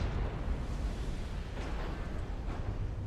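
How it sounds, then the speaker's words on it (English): A torpedo detonates against a warship in the naval strategy game Ultimate Admiral: Dreadnoughts, producing a steady, dull broadband rumble with no distinct single blast across a few seconds. "torpedo detonated again."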